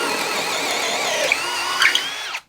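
Steady, loud whir of a Craftsman cordless drill in speed 2 boring through material with a 1/2-inch twist bit, its pitch wavering slightly under load before it cuts off abruptly.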